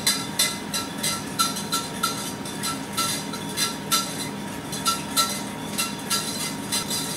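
A utensil stirs butter into a sauce in a pan, making steady, rhythmic metallic scrapes and clinks, roughly two to three per second, close and fairly clear with no talking.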